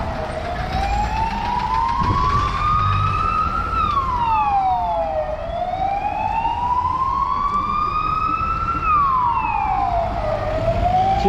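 An emergency vehicle siren wails through rainy city traffic in a capital, rising and falling in slow sweeps, loud and close over steady road noise.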